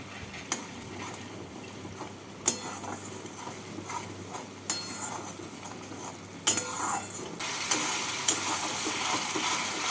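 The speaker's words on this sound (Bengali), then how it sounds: "এবার মশলাটাকে কষিয়ে নেব" Masala paste is stirred and fried in a pan, a soft sizzle broken by periodic clinks and scrapes of a spoon against the metal, growing louder near the end.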